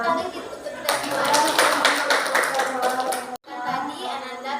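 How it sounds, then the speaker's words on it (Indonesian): A group of children in a group guidance session clap their hands together in a lively burst of rapid, uneven claps lasting a few seconds, with a brief break before more clapping and children's voices mixed in. "tepuk tangan kita untuk kita semua."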